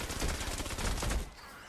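A rapid burst of automatic fire from the Candy Corn LMG in Fortnite Save the World, fast repeated shots rattling close and loud for about a second before cutting off.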